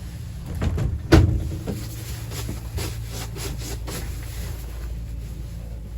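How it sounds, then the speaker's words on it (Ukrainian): A door closing somewhere in a ski-resort setting, heard as one solid thump with a rubbing, wooden knock near the one-second mark, followed by a steady low rumble of background noise. "Двері закриваються."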